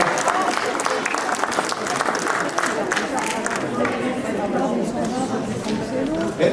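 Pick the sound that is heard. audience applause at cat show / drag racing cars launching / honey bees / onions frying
audience applause at cat show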